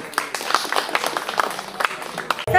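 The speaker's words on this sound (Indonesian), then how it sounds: "Terima kasih dan tepuk tangan untuk kita semua" Scattered clapping from an audience at a cultural discussion session, sparse and uneven claps mixed with voices, fading near the end before a sudden louder sound cuts in.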